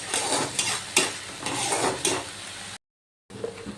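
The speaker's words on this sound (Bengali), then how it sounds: "এবার আদা বাটাটা দিয়েও একটু ভালোভাবে কষিয়ে নেব" Ginger paste stir-fried in hot oil for a Katla fish dish, a steady sizzle with rhythmic scrapes of a spatula against the pan, a short silent gap, then the stirring resumes.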